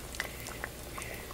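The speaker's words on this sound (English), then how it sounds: "I'm deep frying this fish." Fish deep frying in hot grease in a home kitchen pot, a steady soft sizzle and bubbling with small pops and crackles, close and continuous, no talking.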